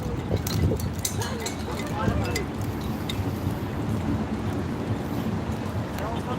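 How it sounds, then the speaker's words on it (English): Strong wind buffets an outdoor microphone in Santa Rosa, a constant rough roar with gusty bursts, while people talk underneath. "It's windy."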